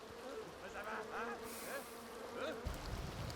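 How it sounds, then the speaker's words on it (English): Bees buzz in The Sims 2 life-simulation game during an outdoor hiking outing, with wavering buzzing tones drifting over soft ambient game background. "Bees were not what I had in mind."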